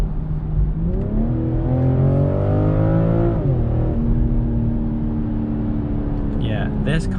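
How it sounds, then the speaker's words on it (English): A 2021 BMW M440i accelerates hard from inside the cabin, its engine note climbing steadily in pitch through the gear, dropping at a shift, then pulling again with a loud, smooth drone. "once the car gets going, you get shoved back into the seat like crazy"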